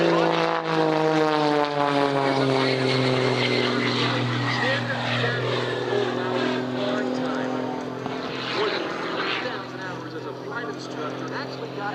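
An aerobatic biplane flies overhead at an air show. The propeller engine gives a loud, sustained drone whose pitch slowly shifts as the plane passes, with voices talking under it.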